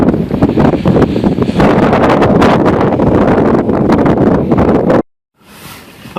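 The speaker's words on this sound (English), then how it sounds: "it is cool and really getting windy up here" Strong wind roars on an exposed mountainside at about 5,000 feet in New Hampshire's White Mountains, buffeting the microphone with a steady, loud gusting rush that cuts off abruptly near the end, leaving a quieter breeze.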